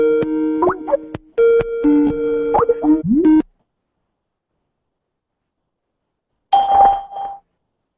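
A Skype test call service plays a short sequence of melodic electronic tones, then after a few seconds of silence a single steady, clear beep about a second long.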